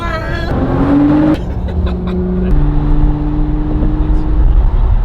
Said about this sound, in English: Just got back, parking up next to the neighbor.